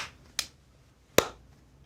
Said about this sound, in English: I want you to clap once and then catch it